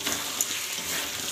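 Chicken curry meat frying in a kadai, nearly cooked down and beginning to stick: a brief, steady, close hiss of sizzling with no voices.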